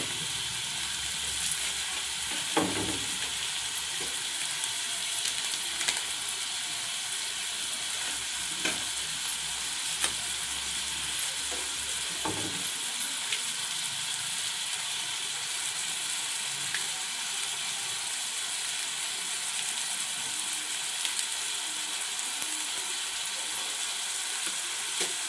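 Crab pieces fry in a pan with salt, chili powder and a non-veg masala paste, giving a steady, dense sizzle throughout with a few sharp clacks of stirring near the start and no one talking.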